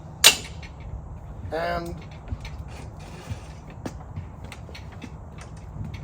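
Legs of a folding DeWalt tool stand are folded and pivoted: a sharp click comes first, then a brief rattling clatter and a few faint ticks, with a voice heard briefly.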